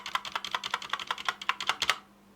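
Around fifteen rapid, close taps on an SPC Gear GK630K Tournament RGB Pudding Edition keyboard with Kailh Brown switches, the space bar among them, each a sharp clack in a quick steady rhythm before stopping, with no voices.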